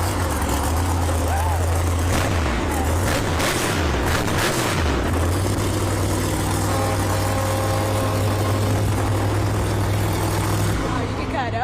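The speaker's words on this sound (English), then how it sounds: "Can we just check out how loud these trucks get? Can you let it rumble up there real quick?" A Monster Jam monster truck engine rumbles loud and deep indoors, booming revs rising and falling before settling into a heavy steady idle, with people talking over it.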